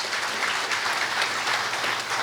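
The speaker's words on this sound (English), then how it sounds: "Give the people of number 7 a round of applause." Audience at a New Year's gala breaks into steady applause, a continuous wash of many hands clapping at moderate distance, with no talk over it.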